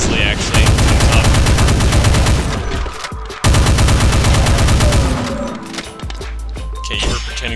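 A chain gun fires continuously in the video game Doom 2, a loud, rapid stream of shots that breaks briefly and then resumes, heavy and unbroken, with no voices.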